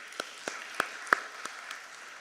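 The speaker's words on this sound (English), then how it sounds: "I would still like to request you all to thank them with a huge round of applause." Sparse, faint claps ring out in a conference hall at a closing session, about seven separate hand claps spaced unevenly over two seconds.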